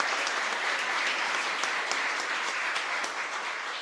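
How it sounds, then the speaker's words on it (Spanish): A congregation applauds at the close of a Catholic mass at the San Miguel Arcángel parish in San Lorenzo, with dense, steady clapping that fills the church evenly for several seconds. "Fuerte aplauso para todos nosotros."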